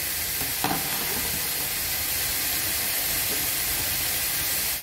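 A loud, steady sizzle of finely diced eggplant frying in a pan, with a faint tap near the start.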